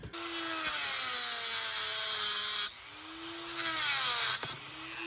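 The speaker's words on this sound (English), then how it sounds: "I'm going to take a Dremel. I'm going to cut right along there to take this circuit breaker body" Dremel rotary tool cutting through the circuit breaker body on a 1946 Lionel 221 toy train set, a close, loud high-pitched whine that grinds in two long bursts with a short pause between them and no voices.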